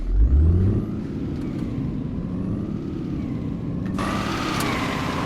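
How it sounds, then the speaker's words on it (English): Heavy truck engine in the On The Road Truck Simulator game, a Scania-style rig, accelerating with a loud low rumble that swells briefly at the start, then settles into a steady drone with a brighter rise near the end. "Seems like they maybe improved the engine sounds or made the acceleration a bit more."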